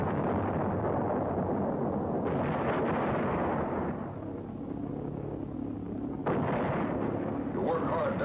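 Anti-aircraft guns fire at V1 flying bombs over the south coast of England during the Second World War, heard as dense, continuous booming and rumbling with someone narrating over it.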